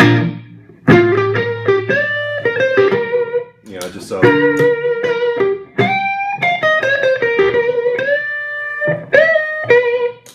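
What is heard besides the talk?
electric guitar through overdrive pedal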